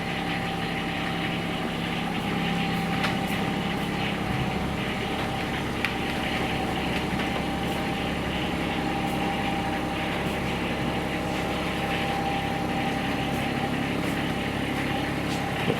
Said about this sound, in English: And you know it's a diesel when you just cranked it up.